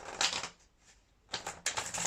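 A deck of tarot cards is given a quick shuffle, producing two short bursts of crisp riffling close by with a brief quiet pause between them.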